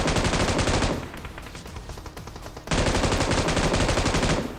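Rapid automatic gunfire from a PUBG Mobile match, loud and continuous with sustained bursts, easing to quieter scattered shots midway before another dense burst of fire resumes.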